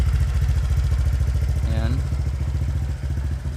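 Honda Click 150i v2 scooter with an aftermarket muffler idling, a loud, close, rapid low pulsing exhaust throb, with someone briefly speaking over it.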